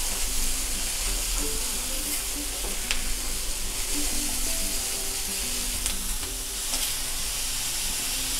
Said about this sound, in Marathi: हे बघा आपल्या भाज्या चांगल्यापैकी व्यवस्थित रोस्ट होत आहेत